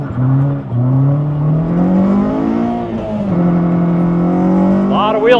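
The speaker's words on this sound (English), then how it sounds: "A lot of wheel spin." A Honda CR-Z swapped with a K24A2 engine accelerates hard with heavy wheel spin, its loud revving engine climbing steadily in pitch and holding close and continuous throughout, ending in a short higher squeal.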